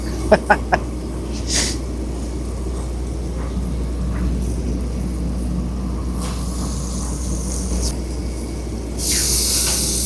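Steak searing in a hot pan, with a steady hiss close by over a low rumble, a few quick clicks at the start and brief swells of louder sizzling.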